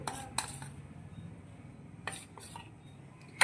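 A spoon clinks and scrapes against a bowl while bitter gourd rings are tossed with cornflour, in a few short metallic taps separated by quiet stirring.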